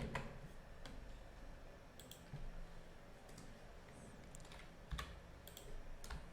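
Keyboard keys tapped in short, uneven bursts while writing HTML and CSS code, soft close clicks over a low steady room hum, with a few sharper louder keystrokes standing out.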